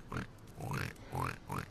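A pig oinks four times in quick succession, each a short nasal grunt with a rising squeal-like tone, close and moderately loud against a quiet background.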